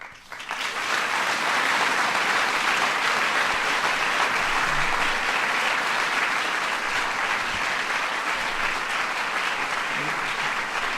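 Sustained applause from a large crowd, loud and steady throughout with dense clapping and no pauses.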